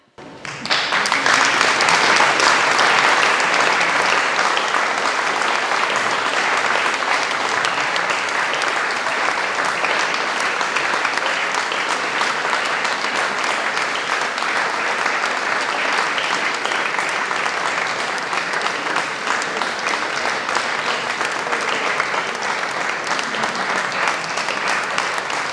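Audience at a traditional summer concert by a men's choir bursts into loud, continuous applause that starts suddenly and holds steady for the whole stretch, a dense patter of many hands.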